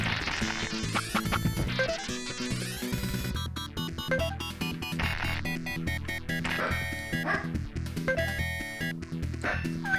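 Adlib FM synth music from the video game Monster Bash, a bright chiptune melody with bouncy bass and rapid arpeggiated notes, playing continuously at moderate volume.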